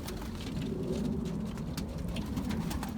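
A racing pigeon coos softly in an aviary amid steady wet patter like rain or dripping, a continuous murmuring texture without speech.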